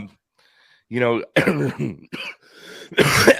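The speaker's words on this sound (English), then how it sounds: "I'm coughing up a lung here" A man coughs and clears his throat in short, loud bursts between bits of his own speech, the hacking recurring several times across a few seconds.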